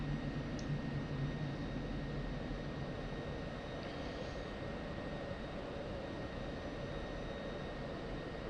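F-16C jet in the DCS flight simulator rolling out after a visual landing, a steady broadband engine roar with a faint tonal whine holding evenly throughout.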